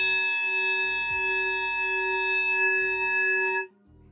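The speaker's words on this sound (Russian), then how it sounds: "вот он, закрученный по самому помидору звучит так" A Meinl Classics bell cymbal, struck once with its wingnut fully tightened, gives a bright, steady metallic ring with many sustained overtones, then is damped and cut off abruptly near the end, with faint low handling thumps beneath.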